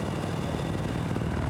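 Jet aircraft roaring past in the video game Battlefield, a steady loud broadband engine rush filling the whole short moment without any talk.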